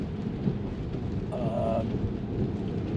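Steady rain drums on a Tesla during a drive, with low rumbling thunder beneath, a constant close wash of noise and a brief tonal chime partway through.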